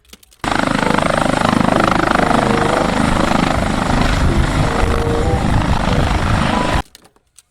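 A toy helicopter whirs continuously for several seconds at a steady, fairly loud level, starting and stopping abruptly, with no talking over it.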